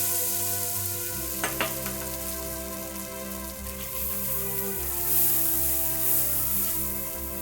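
Spices with turmeric and asafoetida sizzle steadily in oil in a frying pan, a close, even crackling hiss with a brief clatter of stirring near the start.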